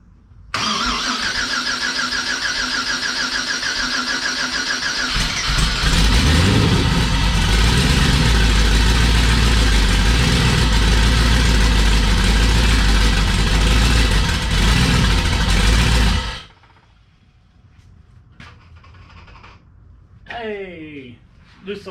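An old car that is being rebuilt cranks and then starts, running loud and rough for about ten seconds before it cuts out, followed by quieter clatter and voices.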